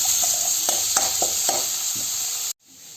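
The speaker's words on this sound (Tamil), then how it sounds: "கொஞ்சம் வதக்கிறோம் வெங்காயத்தை" Onions sauté with masala in a pan, giving a continuous loud sizzle with a few stirring knocks, before the sound cuts off abruptly near the end.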